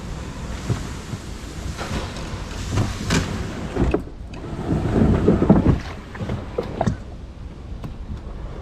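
An Old Town Sportsman PDL 120 pedal kayak is dragged into the water, its hull scraping and splashing close by under steady outdoor wind noise and lapping water.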